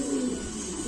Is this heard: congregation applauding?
no